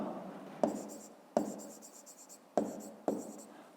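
A pen writes on paper in a few quick bursts, each starting with a tap and followed by scratchy strokes, close and clear in a quiet room.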